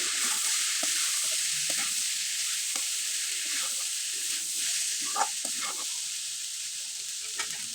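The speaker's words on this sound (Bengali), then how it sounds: "এবার খুব ভালোভাবে নেড়ে চেড়ে নিতে হবে" Homemade rice noodles with chopped cucumber stir-fried in a pan: a steady, loud sizzle runs underneath, broken by soft scraping and clinking as the ingredients are tossed and stirred, with no voices.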